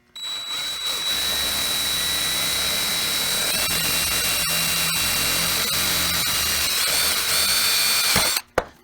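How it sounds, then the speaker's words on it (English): A power drill whines steadily through metal for several seconds, loud and close, then abruptly stops near the end. "We're going to drill these holes out here with our drill bit."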